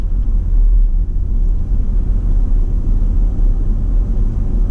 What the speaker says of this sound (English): Check your rear view, cover your brake, and go ahead and accelerate through the intersection.